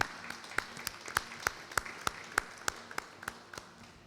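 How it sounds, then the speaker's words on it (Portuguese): A support group at a community center gives a round of applause, sparse and distinct individual claps in a steady rhythm, fairly faint and alone with no talk. "Pode dar uma salva de palmas aí?"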